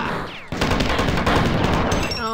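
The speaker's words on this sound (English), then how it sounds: "Oh, you shot at people again." Dense bursts of video-game gunfire and explosions in Marathon 2: Durandal, loud and rapid, with a brief lull before a sustained barrage.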